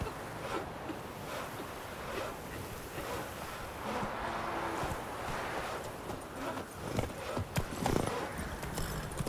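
Roach the horse trots along in The Witcher 3 video game, steady clip-clopping hooves over a soft wind-and-water ambience, fairly quiet, with a faint voice now and then.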